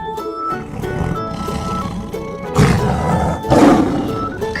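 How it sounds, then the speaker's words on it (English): A tiger roars in two deep, rough bursts near the end, preceded by low rumbling growls, loud and close with no talk. "Tiger."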